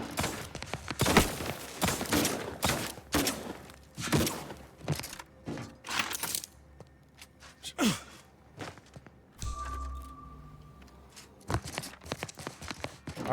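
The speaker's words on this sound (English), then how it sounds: "I think at this point you guys are shooting just to shoot" Gunfire bursts out in The Outer Worlds 2, a string of sharp shots clustered in the first half with a few more later, mixed with other game effects and a brief low rumble.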